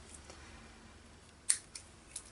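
Scissors snipping paper-like craft material for a junk journal, a few quiet crisp cuts in the second half over a near-silent background.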